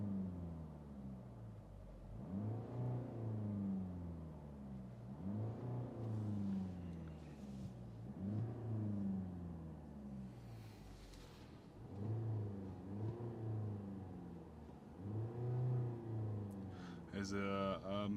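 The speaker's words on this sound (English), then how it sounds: "And now we can actually rev the car." A 2024 Mercedes E-Class Estate All-Terrain engine revs repeatedly up to a limiter around 4,000 RPM, each rise in pitch climbing then dropping, in a steady rhythm of roughly five or six revs.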